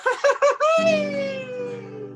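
A loud, high, drawn-out shout preceded by a few quick yelping calls, ringing out and fading slowly, like a festive Mexican cry.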